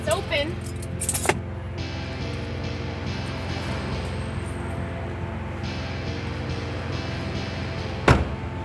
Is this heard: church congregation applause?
no